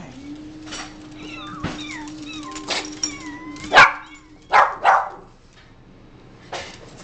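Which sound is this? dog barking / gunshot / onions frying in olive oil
dog barking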